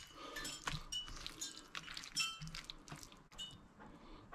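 Leaves being stirred through puttanesca sauce in a pan, with soft clinking of a utensil against the pan and light wet sizzling, quiet and close, no voices.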